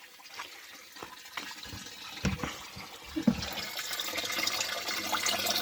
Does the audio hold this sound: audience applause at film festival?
no